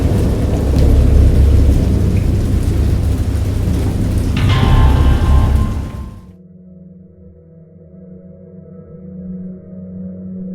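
Heavy rain and rolling thunder of a thunderstorm in the horror game Dagon roar loudly for about six seconds, then cut to a quiet, low hum.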